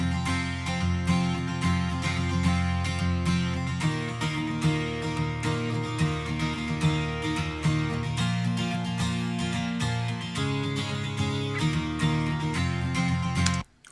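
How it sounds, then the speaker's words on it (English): A galloping acoustic guitar part from a software plugin drives a steady rhythmic strum inside a dense prog rock mix. It keeps going throughout, with no talking, and cuts off abruptly at the end. "this song has this acoustic guitar all the way through it."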